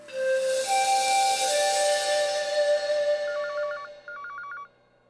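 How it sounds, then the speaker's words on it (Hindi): A telephone rings in short, repeated electronic trills, two bursts of warbling tone over a faint hiss, fairly close and clear. "मैं तुम्हारी माँ को फोन करता हूँ"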